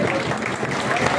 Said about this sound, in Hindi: आप सबकी भरपूर तालियां भी चाहिए